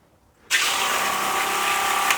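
A Joolca Hot Tap portable gas water heater switches on and its flame ignites with a sudden rush, then holds a steady loud hiss of burner and flowing water after half a second of near silence.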